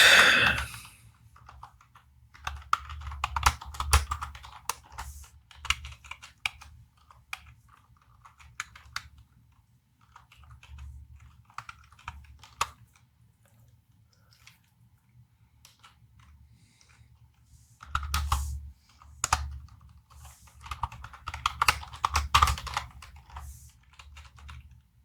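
Typing on a computer keyboard, a steady clatter of quick key taps in bursts, with dense flurries near the start and again toward the end and sparser pecking in between, all close by.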